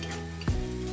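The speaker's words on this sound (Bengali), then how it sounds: "হলুদ গুঁড়োটা দিয়ে পেঁয়াজটা একটু ভেজে নেব" Onion frying with turmeric powder in a pan for chicken curry, a steady close sizzle with a brief stirring scrape in the middle.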